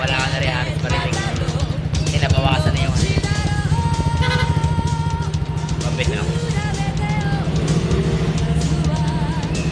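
A motorcycle fitted with an exhaust silencer idles in a steady, muffled low rumble for the whole stretch, with a loud continuous drone and other busy sounds layered on top.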